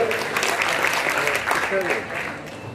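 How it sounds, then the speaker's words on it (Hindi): Loud, dense applause from an audience at a Punjabi Screen Club Rafi Nite show, honouring Mahavir Bhullar. It is steady and close throughout, with a voice briefly audible over the clapping. "तालियां जोरदार तालियां महावीर भुल्लर।"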